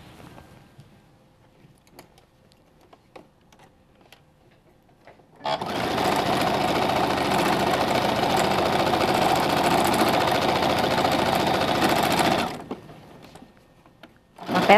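A sewing machine stitches a seam in a single run of several seconds, its loud steady mechanical whir and rapid ticking starting abruptly after a quiet stretch and stopping just as suddenly, with faint handling sounds before and after.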